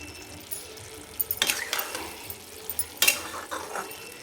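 Green tomato chutney being mixed in a pan, with a spoon scraping and rattling against the metal in short bursts over a low sizzle, close by.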